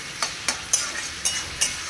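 Chili chicken with onion and capsicum is stirred in a frying pan, giving five evenly spaced scraping strokes over a steady soft sizzle, close and fairly quiet, with no talk.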